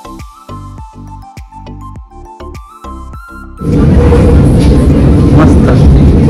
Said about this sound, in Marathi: आणि हा आहे ट्रेन आली.